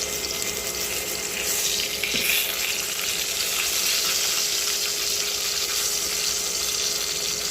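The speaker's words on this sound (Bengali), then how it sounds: "এবার একটা ফ্রাই প্যানে একটু তেল গরম করার পরে এই মাছগুলো সব ভেজে নিব এক এক করে" Rui fish fries in hot oil in a frying pan in a village kitchen, giving a continuous close sizzle and crackle that holds steady throughout with no talking.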